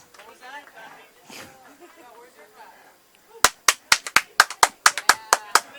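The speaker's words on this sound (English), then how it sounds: "That's me clapping." Quiet talking fades out, then a single pair of hands claps about a dozen times, sharp and close, in a quick uneven rhythm, at a Tekken 7 gaming tournament.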